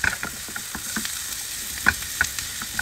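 Garlic and onions sautéing in a pan, a soft steady sizzle broken by scraping and clicking stirs of a utensil, close and fairly quiet with no talk.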